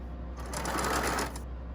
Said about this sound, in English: So when I'm sewing the 1/4 inch, it kind of hits where they intersect